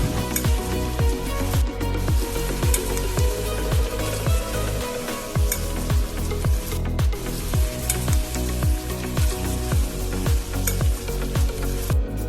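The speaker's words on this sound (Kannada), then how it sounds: "ಸ್ವಲ್ಪ ಲವಂಗ, ಏಲಕ್ಕಿ, ಬೆಳ್ಳುಳ್ಳಿ ಮತ್ತು ಶುಂಠಿ, ಕೊತ್ತಂಬರಿ ಸೊಪ್ಪು, ಸ್ವಲ್ಪ ಕರಿಬೇವು ಸೊಪ್ಪು ಎಲ್ಲ ಹಾಕಿ ಚೆನ್ನಾಗಿ ಫ್ರೈ ಮಾಡ್ಕೊಳ್ಳಿ." Cloves, cardamom, garlic, ginger, coriander and curry leaves fry in hot oil for holige saaru, a dense, close sizzle punctuated by steady, rhythmic scraping strokes of a stirring spoon.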